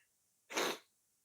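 A single sudden sneeze, close and fairly loud, a short breathy burst of about a third of a second in an otherwise quiet room.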